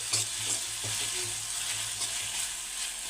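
Tomatoes with salt fry in a pan with a steady close sizzle, while a spoon stirs in repeated soft scraping strokes.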